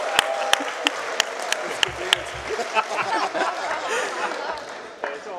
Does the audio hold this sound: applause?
yes